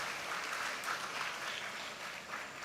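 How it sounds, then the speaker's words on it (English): Seminar audience at a legal awareness session giving a round of applause, a continuous, fairly even patter of many hands clapping at moderate volume, with no voices standing out. "Can we have a very big round of applause for taking us through to the system?"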